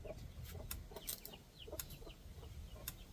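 A hen clucks softly in a chicken coop on a homestead, giving short, scattered calls at a low, fairly close level with no talking.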